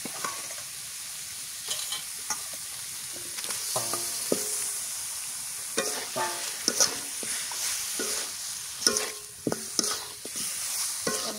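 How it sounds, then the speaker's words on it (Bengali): Chicken pieces sizzle loudly in a spiced masala in a village kitchen, with a steady hiss broken by repeated clanks and scrapes of a stirring spoon against the pan. "মশলাটা কষানো হয়ে গেছে, এবার দিয়ে দিয়ে দিই মুরগির মাংস।"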